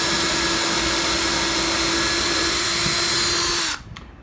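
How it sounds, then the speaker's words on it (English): A power drill whines steadily at full speed for several seconds drilling down into a hole, then cuts off abruptly with a brief trailing burst near the end. "And then we're going to drill right down into that hole."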